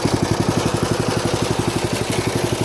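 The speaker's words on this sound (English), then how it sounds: "Idles like a champ." A small go-kart engine idles, its steady, rapid low putter pulsing evenly and close by with constant loudness, alone without talk.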